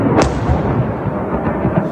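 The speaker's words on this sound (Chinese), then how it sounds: "现场爆炸声不断。" Explosions roll from an ammunition depot struck by a US airstrike in a western Iraqi border town, a loud, continuous rumble of overlapping booms with one sharp crack near the start.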